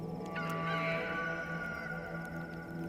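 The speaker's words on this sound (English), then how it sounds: "A second time, the rooster crowed." A rooster crows once, fairly faint and distant, over a quiet steady background hum.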